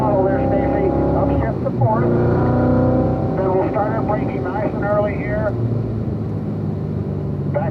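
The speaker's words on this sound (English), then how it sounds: "Now roll into the throttle, full throttle there, Stacy, upshift to fourth." Car engine at full throttle on a race track, a loud steady drone with rising pitch through the gears, under continuous talk from an instructor coaching the driver.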